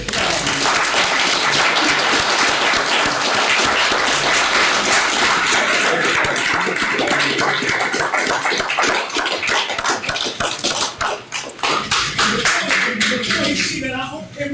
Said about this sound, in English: Please, everybody, give this man a round of applause.